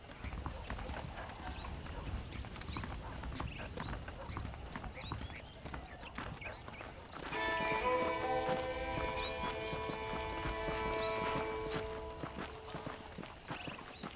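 Saddled horses clip-clop at a steady walking pace in the Red Dead Redemption video game, hooves close and clear over outdoor ambience, with a musical score swelling in partway through.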